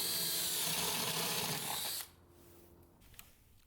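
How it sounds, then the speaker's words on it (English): A power drill bores holes through a panel for a jigsaw entry point, a loud steady whirring grind that runs for about two seconds and then cuts off, leaving quiet room noise. "I started drilling holes of where I'm going to insert the jigsaw to cut inside of the panel"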